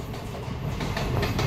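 An express train departing Vasai station rumbles along steadily nearby, a dense low roar with wheels rattling on the rails.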